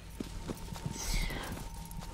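Horse hooves clip-clopping in Shadow of the Colossus, a quick regular run of hoofbeats at moderate distance, fairly quiet over a low steady background.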